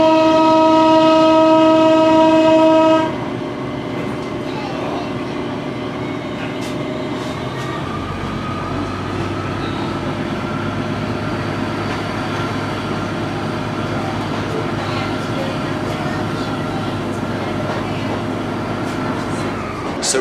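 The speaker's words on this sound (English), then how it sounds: "So, doors are closed, and we're about to set off St Ives." A train on the St Ives Branch Line in West Cornwall sets off after a loud, steady horn-like tone lasting a few seconds, then settles into a continuous rolling rumble of wheels and engine with occasional clicks.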